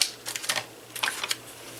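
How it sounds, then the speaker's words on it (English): Scissors snip a stamped paper banner in a handful of quick, quiet crisp cuts, close up, with brief pauses between them. "we're just going to cut it into a little banner."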